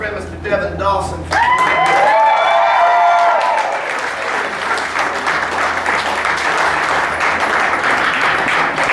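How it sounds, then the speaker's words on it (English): Crowd at a St. Louis concert applauding for a country singer, loud sustained clapping and cheering that swells after a spoken introduction, with sung voice and guitar notes ringing over the start. "Please, a round of applause for my friend Mr."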